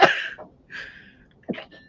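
A single sharp human sneeze bursts out loudly and close at the start, followed by a breathy exhale and a second short nasal burst, with no other sound around it.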